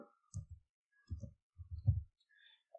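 A computer mouse clicks while working in CorelDraw, giving several short, separate clicks in small clusters with silence between them.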